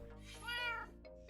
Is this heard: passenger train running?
no